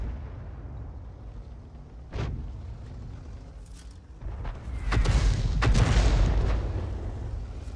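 Tank gun shots in World of Tanks fired from a GW Panther artillery vehicle: one sharp report, then a louder, longer blast with a rumbling boom and debris that trails off, no voices.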